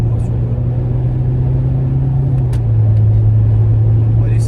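An owner presses the accelerator of a car, and the engine holds a steady, loud, low rumble that shifts pitch slightly as the revs settle, heard close up.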